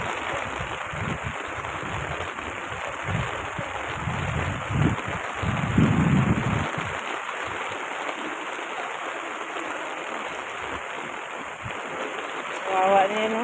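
Heavy rain pours with a rushing, swollen river torrent in Naugsol, Zambales, a steady broadband roar throughout, with rumbling low surges near the middle and voices talking intermittently over it.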